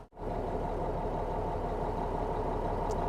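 A truck engine idles steadily and smoothly at close range, a continuous low rumble that holds even from start to finish, with no voices over it.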